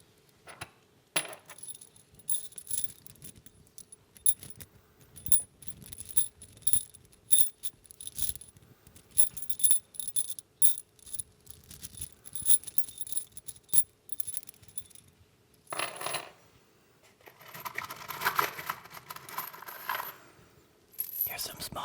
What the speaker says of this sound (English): I'm gonna play with a few screws.